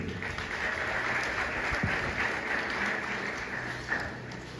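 Audience applause at a community foundation event in Cavaillon, Haiti, a steady broadband wash of clapping that holds evenly throughout with no voices over it.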